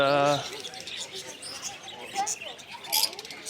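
Small birds in the pet section of a Doha market chirp in quick high tweets, brief and scattered, under a busy crowd murmur with people talking nearby.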